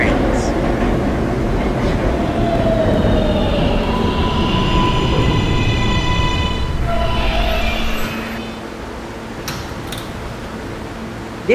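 A Roblox R143 subway train on the Q Express rumbles along with rattling wheels and a few high squeals, then the noise drops off near the end as it slows.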